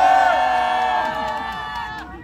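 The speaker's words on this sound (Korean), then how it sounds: "힘찬 함성과 함께 시작하도록 하겠습니다" A crowd at a writers' protest rally raises a shout together, a loud sustained collective cry with whooping voices that trails off over about two seconds.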